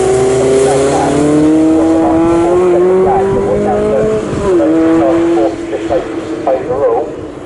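Lotus Elise race cars racing at Snetterton during an Elise Trophy race, a loud sustained engine drone with rising and shifting pitch under continuous race commentary.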